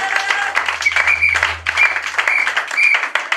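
Church congregation breaking into sustained applause, many hands clapping densely and steadily, with a low hum underneath.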